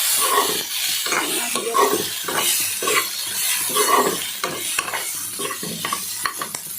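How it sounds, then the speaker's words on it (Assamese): Soybean chunks being stirred and fried in a pan, cooked in the style of meat, with a steady sizzle and repeated scraping stir strokes close up, no talking. "অকণমান মই ভাজিম।"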